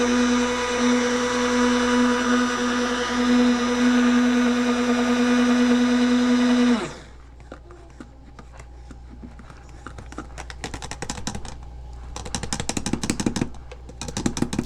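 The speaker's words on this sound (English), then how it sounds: "A lot of blending is required to make a stable emulsion." Immersion blender whirring steadily through aloe vera lotion at close range for about seven seconds, then cutting off abruptly, leaving quiet room noise with light clicks and handling sounds.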